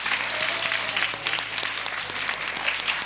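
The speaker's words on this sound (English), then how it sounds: "I want to first of all give yourselves a round of applause" Sustained applause from an audience of ladies at a showcase event, dense steady clapping filling the whole moment without pause.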